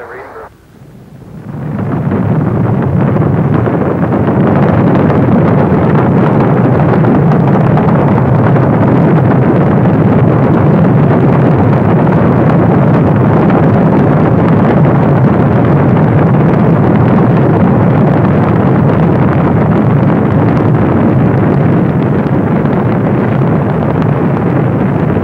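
The Apollo 16 rocket lifts off as a massive, continuous rumbling roar that swells in within the first couple of seconds and then holds loud and broad for over twenty seconds, with no talk.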